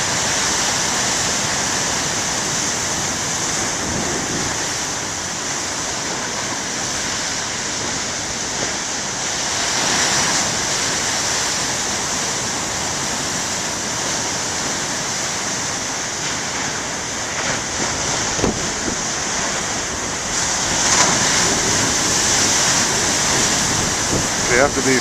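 Big ocean waves breaking on a beach, a continuous roaring wash of surf with periodic louder crashes, heard amid wind buffeting, with people talking faintly at times.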